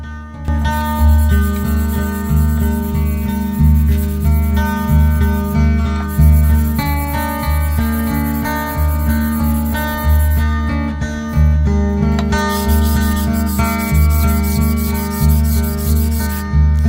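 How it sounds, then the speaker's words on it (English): A Stanley No. 6 fore plane sole is wet-sanded on 800 grit abrasive, a steady rhythmic rasping rub of metal on paper that runs loud and close, stroke after stroke without pause. "I just finished wet sanding on the 800 grit"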